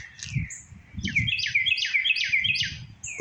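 Several birds chirp and trill outdoors in a quick run of bright, repeated high tweets, with low rumbling noise underneath.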